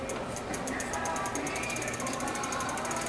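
A ratchet wrench clicks rapidly and evenly while a bicycle's pedals are back-pedaled during bike assembly, a steady close run of fine pawl ticks with no pause.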